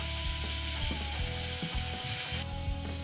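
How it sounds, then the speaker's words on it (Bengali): Egg beaten with chopped onion, chilli and salt sizzling on a hot tawa, a steady close frying crackle with low hum and occasional scraping clicks, no voices. "তাওয়াটা গরম হয়ে গেছে, তাই ডিমটাকে পেঁয়াজ লঙ্কা কুচিয়ে নুন দিয়ে মাখিয়ে রেখেছি। এখন ডিমটাকে আমি ভেজে নেব।"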